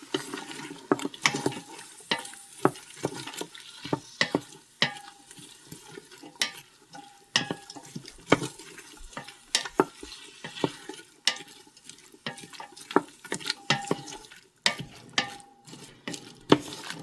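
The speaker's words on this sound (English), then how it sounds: "So we're going to saute that for about 5 minutes until those onions are nice and" Onions sautéing in an Instant Pot, heard as faint, scattered scraping and clinking of stirring over a soft sizzle, with irregular taps through the whole stretch.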